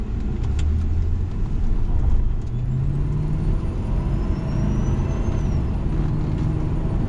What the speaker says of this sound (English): Very prominent alternator noise.